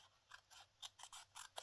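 Scissors snip through paper at a table in a run of quick, crisp cuts, fairly quiet and close, spaced at irregular intervals with no talking.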